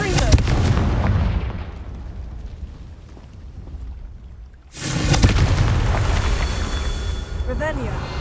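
A loud blast from a fantasy blasting spell booms out, fades over several seconds, then a second heavy explosion bursts in with rumbling debris.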